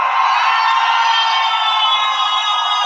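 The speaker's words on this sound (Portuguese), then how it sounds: "Essa explosão da torcida é contagiante" A football stadium crowd erupting after a goal in a Grêmio Esportivo Bagé match, a dense roaring cheer that stays loud and continuous throughout.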